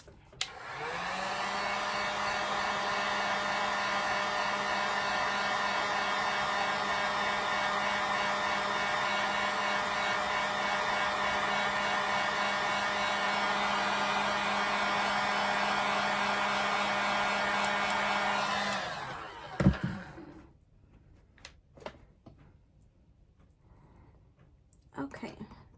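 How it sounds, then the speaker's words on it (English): A hair dryer blows steadily at close range for about nineteen seconds to dry paint on a painting of whimsical roses, then clicks off, leaving quiet room noise with faint handling sounds. "now let's dry this"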